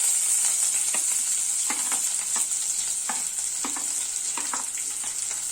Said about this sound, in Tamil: இந்த நறுக்கி வச்ச ஒரு 3 நல்லா பெரிய வெங்காயம் இதுல போட்டுக்குவோம்.